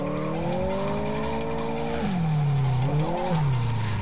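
A car drifting in the Live for Speed racing game: a loud engine whine that drops in pitch under squealing tires, then revs and bogs down again, up close with no talk.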